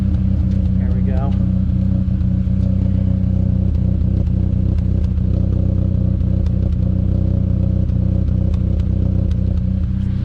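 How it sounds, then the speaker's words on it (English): A car engine with oil-fouled spark plugs idles loud and close with a steady rumble and a rough, uneven knock throughout, while a voice talks over it. "you guys can hear a misfire"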